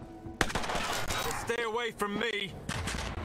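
Rapid bursts of gunfire in the video game Mutant Year Zero: Road to Eden crack over a steady background, mixed with tonal game effects and a brief warbling electronic sound.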